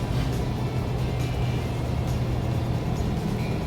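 A car moves with traffic on a commentary drive in Maroochydore, a steady broadband road and engine rumble, close and continuous with no breaks.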